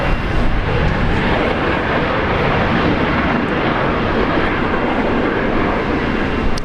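Jetstar airliner at Brisbane Airport, a dense, loud, unbroken jet roar spread wide across the band, close and steady for several seconds.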